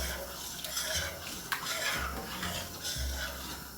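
Tomato sauce is poured and stirred into a pot of pasta fagioli. Soft scraping and sloshing stir strokes repeat unevenly under a low background hum, with no talking.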